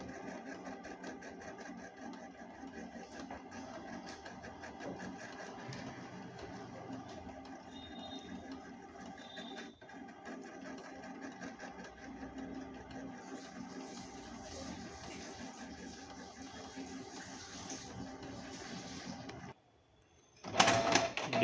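A Canon G2010 inkjet printer prints a test page with a steady mechanical whirring and rattling that runs continuously for about twenty seconds, then stops abruptly, followed by a short clunk.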